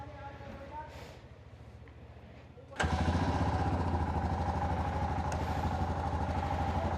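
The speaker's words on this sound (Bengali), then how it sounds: "বাইকটা এখন কোল্ড স্টার্ট দিচ্ছি।" A motorcycle in Pelling, Sikkim, idles faintly while someone talks, then fires up on a cold start into a loud, steady, close idle with a rapid throb.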